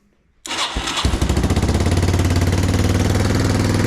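A Yamaha Timberwolf 250 quad, repainted after sitting unused for 18 years, cranks and fires up abruptly, then settles into a loud, steady, rhythmic idle heard up close with no talk.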